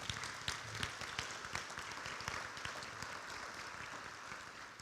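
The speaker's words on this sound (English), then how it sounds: "A nice round of applause for them" Scattered applause rises from the audience at a high school football hall of fame induction ceremony, faint and somewhat distant, with individual claps popping out irregularly over a soft, sustained wash of hands.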